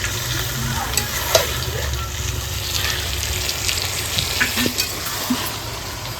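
Duck meat sizzles in hot oil in a pan while being stirred, with a steady frying hiss broken by occasional scraping clatter of the spoon, close and alone.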